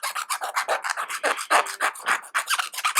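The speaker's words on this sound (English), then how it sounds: "so I got this round file, and I'm filing them out so that the bolt will stick through" A round file rasps back and forth through metal ring terminals for a tractor LED light install, about a dozen quick close strokes in a steady rhythm with no talk.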